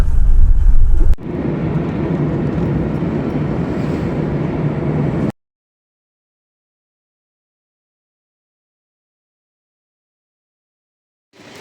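Inside a cab riding to the airport, a steady engine and road rumble fills several seconds, then cuts abruptly to silence.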